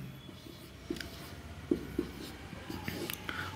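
Chalk or a marker scratches and taps on a board in a classroom, with short faint strokes and clicks under a quiet room hum. The sound is close but soft.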